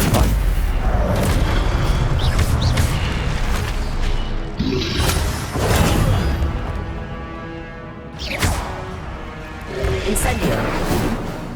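Spell impacts in the Hogwarts Legacy video game, including a Stupefy stun, land as a run of booming, crashing hits with whooshes over a dense, loud battle soundscape, with speech mixed in.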